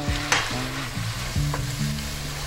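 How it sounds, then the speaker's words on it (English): Beef sizzles in a pan while being stirred, with a steady frying hiss broken by a few sharper clinks and scrapes from the utensil, close up. "Now while that's doing it, I'm just going to stir it. Get all those juices in there nice."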